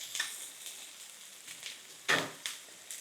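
An onion caramelizing in a pan on a woodstove, cooked as part of moose stuffed peppers. Short bursts of sizzling come and go as it is stirred, close and fairly soft, with no talking.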